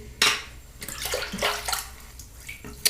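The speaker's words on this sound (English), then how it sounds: "Just drip a bit of water onto the brush as well." Water drips and splashes onto a shaving brush loaded with Dapper Dragon "Tiamat" soap, a few close, wet plops and trickles spaced irregularly over a few seconds.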